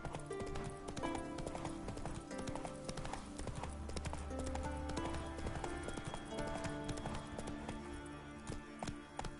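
Horse hooves clip-clop in The Witcher 3 video game, a steady, even gait of close hoofbeats layered over the game's ambient music and effects, with no talk.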